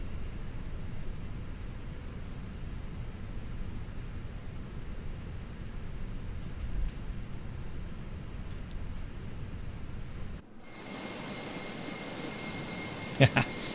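An Airbus A320 jet engine spools up during startup in Microsoft Flight Simulator 2024: a steady, broad, rushing roar that shifts abruptly near the end into a brighter, hissing whine with a couple of brief clicks.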